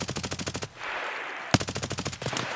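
Rapid automatic gunfire in the video game Escape from Tarkov: two loud, close bursts of evenly spaced shots separated by a short pause, with one sharp single crack between them.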